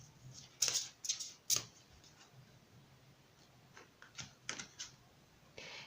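Tarot cards are shuffled by hand in quick, crisp bursts of riffling and tapping, with a pause between two clusters of activity, close and fairly quiet.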